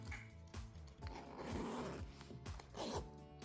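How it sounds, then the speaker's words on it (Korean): A zipper is drawn shut along a handmade felt pencil case shaped as a square pyramid, giving a run of close, quick rasping strokes in a steady rhythm with no talking. "지퍼를 닫아주고 네 모서리 이런 형태의 필통이 만들어졌습니다"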